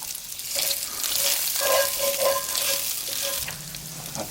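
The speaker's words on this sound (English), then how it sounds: "We finally got some good heat going on the sausage." Sausage browning in a cast iron skillet at a camp cookout, a steady close sizzle and crackle that carries on without pause, with light stirring scrapes and no talking.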